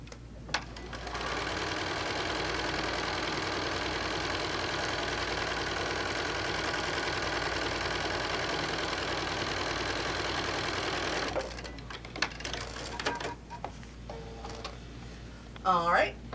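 A sewing machine stitches quilt fabric in a steady, continuous mechanical whir for about eleven seconds, then stops, leaving fabric rustling and handling noises.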